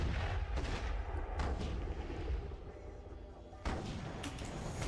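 Sniper rifle shots ring out in the mobile shooter Tacticool, a few sharp booming cracks with thumping echoes spaced over several seconds, moderately loud amid game noise with occasional voices.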